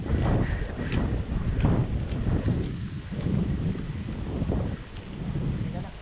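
Strong wind gusting near trees on a rainy day, buffeting the microphone with low rumbling surges that rise and fall, with faint voices in the background.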